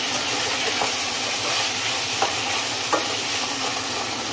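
Tomatoes softening in a hot pan while being stirred, a dense hissing sizzle with a few sharp spoon scrapes, close up and steady, with no talking.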